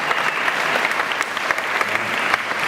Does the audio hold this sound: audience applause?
yes